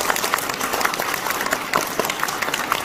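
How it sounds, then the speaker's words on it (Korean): Party members and supporters at a Democratic Party concert in Busan clapping, a brief continuous wash of applause at moderate level, steady and unbroken. "박수 한번 쳐드리죠"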